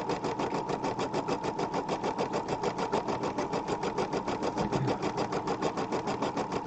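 A home embroidery machine stitches the final section of an ornament ball, a fast steady mechanical chatter of needle strokes repeating several times a second, close and even throughout, with no talking.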